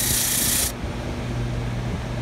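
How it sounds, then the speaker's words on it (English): A small deburring brush wheel works over the milled metal of a red dot sight, giving a loud steady rasping whir that stops abruptly under a second in, leaving a low motor hum running underneath. "And then there's a little deburring kind of brush wheel over here."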